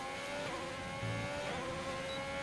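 Formula 1 car in a video game at Bahrain runs off the track with a steady high engine whine, a slight surge and rough rumbling underneath, continuous and close, with no speech.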